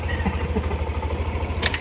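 A Yamaha NMAX 155 V2 scooter engine running after cleaning and repair work, a steady low, pulsing idle up close, with a brief higher clatter near the end.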